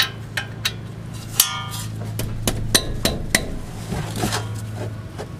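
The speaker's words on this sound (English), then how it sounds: "We're going to have to use it the regular way with a breaker bar." Metallic clinks and taps ring out as a foot-long breaker bar on a 17 mm socket works at wheel lug nuts, with a series of sharp irregular knocks over a steady low hum, close by and with no talking.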